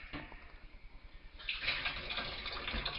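Running water from a tap pours over smoked salmon as it is rinsed to remove salt, a soft steady splashing that grows fuller and brighter partway through, fairly quiet.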